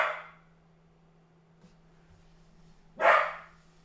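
Two separate dog barks, spaced a few seconds apart, moderately loud and a little distant, with a low steady hum underneath.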